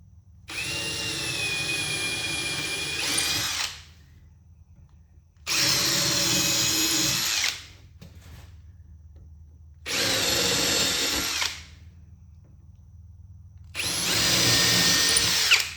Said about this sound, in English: We're gonna drill it first with a smaller hole, 11/64, just to get a pilot hole going here.